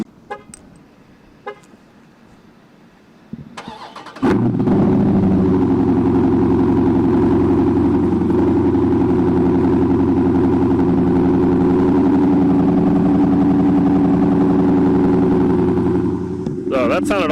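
A Dodge Charger Scat Pack fitted with Vibrant 1142 resonators fires up after a few quiet seconds and settles into a loud, deep, steady exhaust rumble close by that holds for over ten seconds before easing off.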